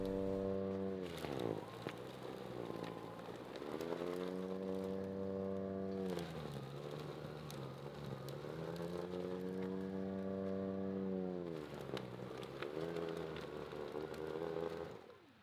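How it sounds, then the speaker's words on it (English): A Snow Joe 80V iON cordless two-stage snow blower motor whines steadily, its pitch dipping and recovering as it works through a snowbank, running continuously for the whole stretch. "the snow drill was able to get through the snowbank"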